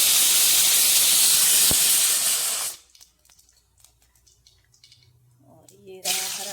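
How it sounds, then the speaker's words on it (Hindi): Cumin seeds dropped into hot oil sizzle loudly with a dense, steady hiss that drops sharply to faint crackles after a few seconds, then another loud hissing burst returns at the end while someone speaks in between. "और तेल मेरा गर्म हो गया है अभी, तो मैंने इसमें डाल दिया जीरा।"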